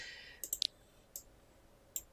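Mouse clicks while unpacking an item in a game: a handful of faint, sharp clicks, a quick cluster followed by two more isolated ones, with no talking.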